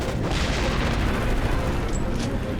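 A heavy, rumbling grenade blast in the video game Ghost Recon Advanced Warfighter 2 on PS3 fills the clip with deep booming and dense noise, loud and sustained, amid chaotic combat sounds.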